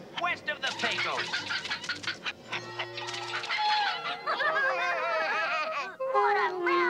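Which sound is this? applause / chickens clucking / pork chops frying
chickens clucking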